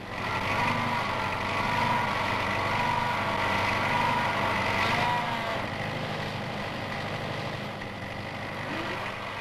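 A tractor works in a manure yard, its engine running steadily at moderate distance with a continuous droning hum that swells slightly and then eases off.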